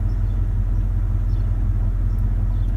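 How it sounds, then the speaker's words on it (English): A truck engine idles steadily while stopped after a fuel filter change, a low, even rumble close by with no talk. "Here we are, stopped. It's idling just fine."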